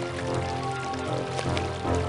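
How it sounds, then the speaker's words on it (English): Rain falling in the Pajama Sam 4 video game, a steady, even patter with a tonal background hum running underneath, continuous and moderately loud, with no voices. "Water is falling from the sky."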